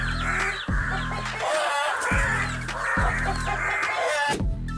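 A mother hen clucks agitatedly while chasing off a crow, her calls close and repeated over a steady, rhythmic low backing sound that pulses throughout.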